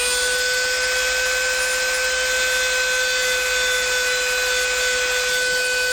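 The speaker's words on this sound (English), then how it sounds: "And I'm just going to drill holes." A small Dremel rotary tool with a tiny ball bit drills holes into an epoxy resin serving board, giving a steady, high-pitched whine that holds constant and loud throughout with no talking.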